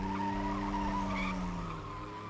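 Tires squeal loudly as a car, a Ferrari or Batmobile, skids in a music video. The squeal is one sustained high whine over engine noise and fades slightly toward the end.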